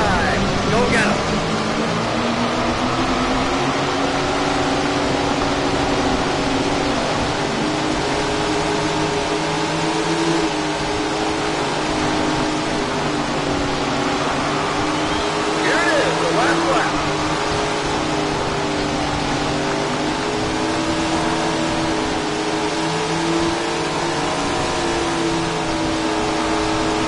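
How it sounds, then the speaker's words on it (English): Sprint car engines in a racing video game drone steadily and loudly throughout, with a layered, constant roar and a voice speaking over them. "listen to these engines roar as they roll to the line"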